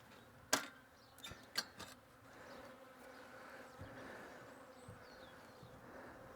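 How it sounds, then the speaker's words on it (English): Honeybees in an opened hive during a cold Welsh winter give off a faint, steady buzzing hum that carries on throughout, with a few sharp knocks and clicks near the start. "So that there's a nice number of bees in here."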